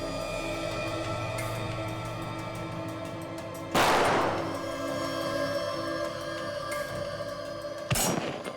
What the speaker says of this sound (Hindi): हाँ अभिजीत, गोलियां तो चली है।